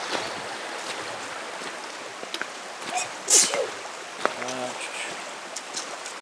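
A single short sneeze bursts out over a steady rush of flowing stream water outdoors in Red River Gorge, followed by a brief voiced sound.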